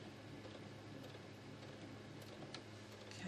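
A home machine embroidery machine stitching a Halloween bookshelf design, a faint steady mechanical whir with a low rhythmic hum and soft ticking from close by.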